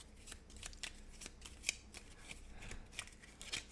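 Nova Roma board game cards are being shuffled close by in repeated quick riffles and crisp flicking snaps, quiet and steady, with no voices.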